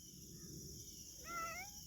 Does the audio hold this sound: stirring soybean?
no